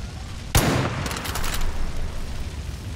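A single sharp gunshot from a firearm in the video game Far Cry 5, loud and close, followed by a brief decaying tail over steady background noise.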